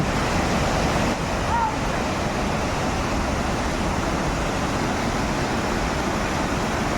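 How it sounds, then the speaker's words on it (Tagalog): Tinuy-an Falls in Surigao del Sur roars as a steady, loud wash of rushing water, constant throughout without pause. "Yung maagos na tubig."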